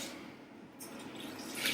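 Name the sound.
water poured onto dried cranberries and oats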